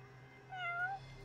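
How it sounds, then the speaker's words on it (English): A cat meows in the Japanese detective video game Judgment, a single drawn-out, rising-then-falling meow heard clearly over a steady low background hum. "That's no pigeon, that's a cat!"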